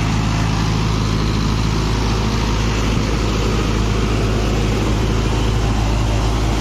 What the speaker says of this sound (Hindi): दूसरे के गियर में 1600 RPM पे ट्रैक्टर चल रहा है।